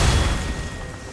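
A booming explosion in the video game Lies of P, a loud low rumble that fills the whole moment and slowly tails off without any voices over it.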